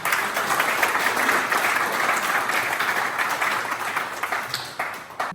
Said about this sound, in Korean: 함께 박수 보내주십시오.